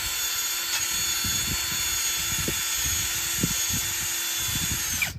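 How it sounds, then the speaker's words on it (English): Drill-driven hone working inside the cylinders of a small block 302 engine block, a steady high whine with rhythmic scraping strokes beneath, moderately close and continuous. "I'm gonna start the honing process."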